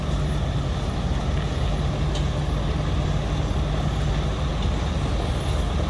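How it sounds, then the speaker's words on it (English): A heavy truck labors up a steep grade in Germany as part of a massive transport, its deep steady engine drone continuous and loud with a faint hiss of air brakes in the mix. "Second truck in line."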